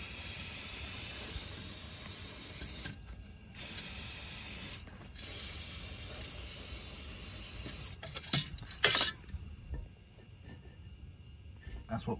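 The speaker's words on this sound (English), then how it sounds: "you can spray some grease on there" Grease sprayed onto the steering components of a Tesla Model S, heard as bursts of steady aerosol hiss broken by short pauses, followed by a few rattling handling sounds.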